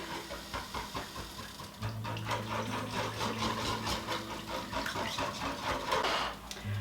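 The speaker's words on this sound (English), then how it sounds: "So now I'm just going to whisk all of this together." Baked bean sauce ingredients are whisked together in a bowl, a rapid, steady scraping and rattling that goes on throughout, close and moderately loud, with a low hum running underneath.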